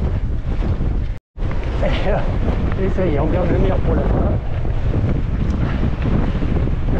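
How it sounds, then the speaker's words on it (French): Strong wind buffets the microphone steadily during a 42 km trail race, roaring continuously while a runner speaks in French. "le vent se lève"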